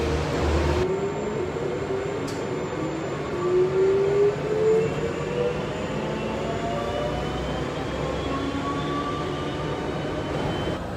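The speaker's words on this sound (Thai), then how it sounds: "so I have to take the train to another terminal to collect the luggage" An airport terminal shuttle train near Paris hums as it runs, its motor whine rising and falling steadily over a constant rolling rumble, heard from inside with no talk.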